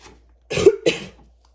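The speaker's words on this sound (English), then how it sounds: "I end up coughing sometime in the reading." Two quick, close coughs from one person, back to back, in an otherwise quiet room.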